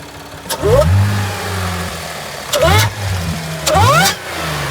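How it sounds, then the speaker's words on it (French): A supercharged Audi S5 with a 4XX hp engine revving three times in quick blips from idle, loud and close, each rev rising sharply and then dropping back to a steady idle rumble. "Je vais te mettre un petit coup d'accélérateur."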